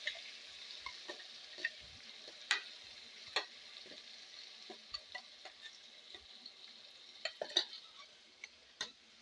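Ground tomato pickle mixture sizzles softly in hot tempering oil, a steady quiet frying hiss broken by scattered sharp ticks and clinks of stirring.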